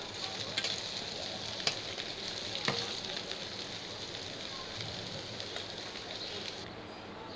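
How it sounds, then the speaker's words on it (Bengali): Beef spleen frying in a pan gives a continuous soft sizzle with occasional sharper pops and a few stirring clicks, fairly quiet and close. "দেখুন অলরেডি তিল্লিগুলো ভাজা হয়ে গেছে।"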